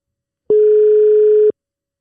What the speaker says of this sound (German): Es klingelt.